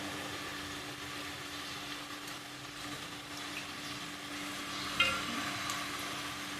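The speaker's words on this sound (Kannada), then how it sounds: "ಎಲ್ಲ ಒಟ್ಟಿಗೆ ಫ್ರೈ ಮಾಡ್ತೀನಿ ನಾನು" Green peas and potatoes fry together in a pan, a steady low sizzle with soft stirring scrapes and one brief clatter midway, no talking.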